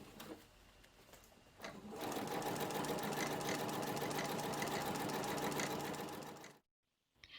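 A sewing machine runs a long-stitch gathering line on fabric, whirring quietly in short bursts before settling into about four and a half seconds of fast, steady close-up stitching, then stopping abruptly into silence.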